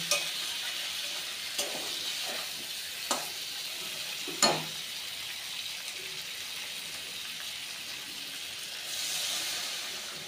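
Water poured into fried spice masala in a pan for a Bengali rui fish curry with drumsticks and potatoes, a soft, continuous sizzle and hiss with a few brief clinks and scrapes, fairly faint throughout.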